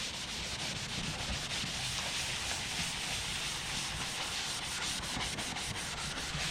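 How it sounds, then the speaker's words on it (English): A soft microfiber rag or red Scotch-Brite pad scrubs an abandoned Nissan 720 truck, making a continuous close, rough rubbing hiss with fast rhythmic strokes throughout. "You want to use a nice soft microfiber rag, or you know, red Scotch-Brite."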